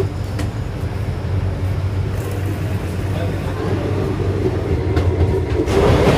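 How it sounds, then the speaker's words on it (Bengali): An express train rumbles steadily as it pulls away from a station, a low continuous drone with faint clicks and occasional knocks throughout. "ট্রেন দেখুন ছেড়েও দিল"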